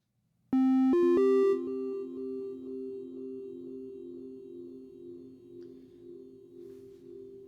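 A few bright synth tones are struck in quick succession through an AIR Delay Pro delay set to high feedback, their echoes ringing out and sustaining as a long, slowly fading tonal tail.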